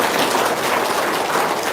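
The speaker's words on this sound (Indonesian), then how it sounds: "Tepuk tangan dulu Ibu dulu." Dense, even applause from a large audience at a religious gathering, a continuous wash of many hands clapping close and loud for a moment, without voices.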